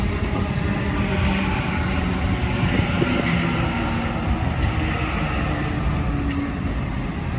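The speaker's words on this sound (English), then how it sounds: "City Circle service arriving into platform 1." A Sydney Trains Waratah A26 City Circle service rolls into platform 1 at Dulwich Hill with a steady, close, grinding rumble of wheels on rail and faint squealing tones, no voices over it.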